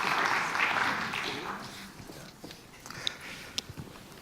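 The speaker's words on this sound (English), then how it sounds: "Round of applause, please." An audience applauds as a panel on advertising walks onto a conference stage, a burst of clapping that starts strong and fades within two seconds into a few scattered claps and footsteps.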